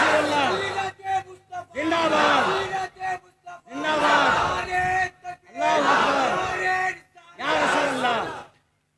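A large crowd loudly chants the takbir slogan in unison, with several powerful swelling call-and-response shouts separated by short pauses, close and reverberant, from a religious conference gathering.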